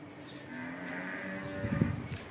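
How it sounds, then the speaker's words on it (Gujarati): A cow calf moos at a farm home, a drawn-out bovine call that swells in the second half, close and fairly clear over a low background hum. "ગાયનું બચ્ચું આવ્યું ને તે રમાડવા જાઉં."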